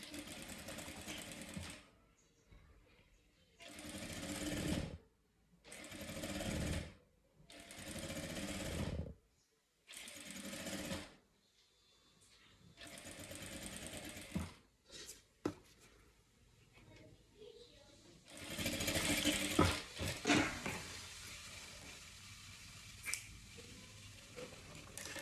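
A sewing machine stitches a seam on fabric for a vaccination card cover, running in several loud bursts of a few seconds each with short pauses between, followed by softer handling noises of the cloth.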